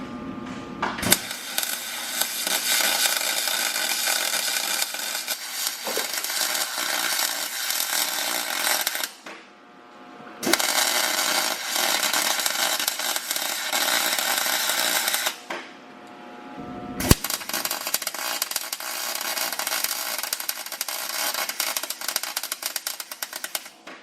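A plate for a hydraulic handbrake is welded in place, with long stretches of harsh, crackling buzz broken by short pauses, loud and close throughout.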